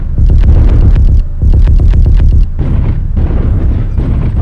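A mech in MechWarrior Online fires its weapons in heavy, booming bursts of rapid repeated blasts, loud and close, broken by short gaps.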